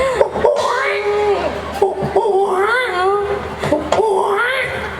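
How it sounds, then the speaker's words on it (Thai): A child wails in rising and falling cries, with sobbing breaths and short gaps between bursts. Other voices and coughs are mixed in around the crying. "ได้ยินเสียงเด็กร้อง ยังไม่เห็นตัวเด็กครับ"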